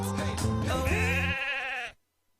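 A sheep bleats in a radio advertisement for a wildlife alliance, one loud, drawn-out wavering bleat that rings alone for about two seconds before cutting to silence.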